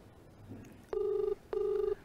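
A telephone rings twice in close succession, each electronic ring a short, steady burst of under half a second, fairly clear above faint background noise.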